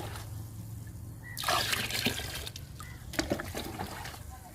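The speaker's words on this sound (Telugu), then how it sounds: "వామాకు లిక్విడ్ అండి పోస్తున్నాను." Homemade ajwain leaf liquid fertilizer is poured onto potted plants, a splashy trickle starting about a second in and continuing with uneven dribbles over low background hum.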